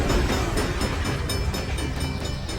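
A passenger train rolls along in a film scene, giving a loud, continuous rumbling clatter with faint rhythmic clicks of wheels on track, steady and close throughout with no talking.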